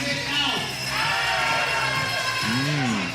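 A pickleball match crowd in Scottsdale reacts to an overturned line call, a steady wash of mixed voices and shouts with a few louder whoops rising above the general din.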